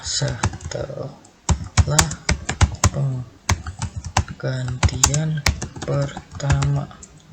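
Fingers type on a computer keyboard in quick, irregular bursts of sharp, close key clicks, with a voice talking over much of the typing.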